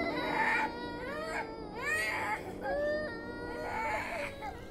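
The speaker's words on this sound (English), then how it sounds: "He began to hear children crying." Eerie children crying and whimpering echo as a ghost-story sound effect set in the Bethnal Green Underground station in London, wavering wails rising and falling in several long bursts.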